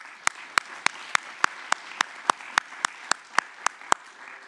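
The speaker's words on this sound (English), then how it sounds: "So also for those as sponsors, I would actually ask for a round of applause." Conference audience at the ICCP 2024 opening applauds the sponsors: sharp, evenly spaced claps stand out in a steady rhythm over a soft, thin bed of clapping from the room.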